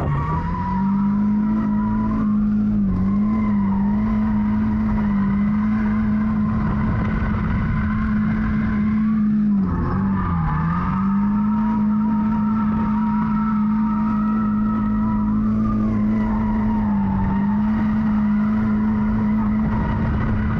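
A car does first-gear figure eights in a lot, its engine holding a continuous, strained drone with rising and dipping pitch as it swings through turns, loud and near throughout.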